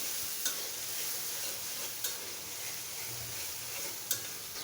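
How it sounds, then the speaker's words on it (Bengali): Spice masala with ginger-garlic paste and cumin paste being stir-fried in a pan after fish, a steady soft sizzle with a few sharp utensil taps against the pan, no talking. "এক চা চামচ আদা রসুন পেস্ট এক চা চামচ জিরা পেস্ট দিয়ে আবারও মশলাটাকে ভালোভাবে কষিয়ে নেব"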